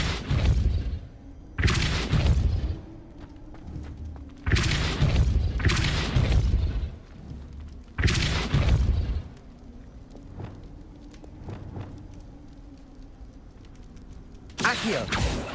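Depulso force-push spell in the Hogwarts Legacy video game, heard as repeated loud booming blasts, roughly five bursts spaced a couple of seconds apart over a low steady hum, with a quieter stretch before a final burst.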